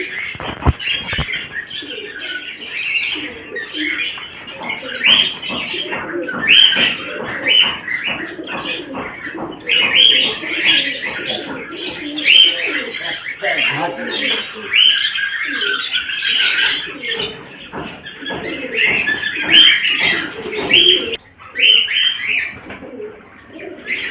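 Busy calls from a pair of breeding cockatiels chatter almost nonstop, with repeated high chirps, squawks and soft cooing sounds layered together, fairly close and lively throughout.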